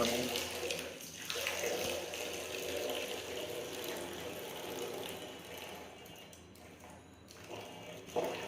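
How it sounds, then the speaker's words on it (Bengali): Running water pours steadily for several seconds into detergent water for soaking mechanical keyboard keycaps, a continuous broadband rush with some clinking in the background. "পানি ঢাকলাম"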